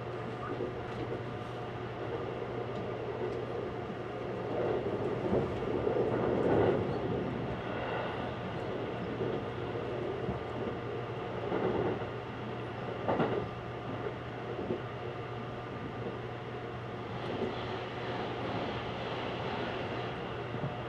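Inside the limited express Kirameki train as it runs toward Orio station, a steady rumble of wheels and rails holds throughout, swelling and easing at moments, with a faint hum underneath.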